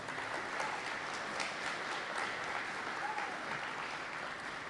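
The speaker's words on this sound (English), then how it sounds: "Let's have a big round of applause." School awards evening audience giving a round of applause, continuous clapping from a large room, moderately distant and fairly quiet.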